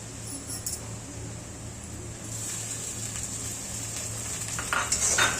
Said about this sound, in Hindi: अब हम इसमें डालेंगे टमाटर।